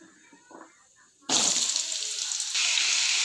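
Bottle gourd pieces drop into hot oil and set off a sudden loud, steady sizzle that holds to the end, after a quiet stretch with faint background noise.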